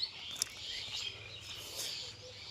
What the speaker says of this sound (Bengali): এখানে পাখির ডাক বেশি,